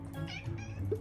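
A cat meowing up close during brushing, a few short, nasal meows rising over a low background murmur, fairly quiet.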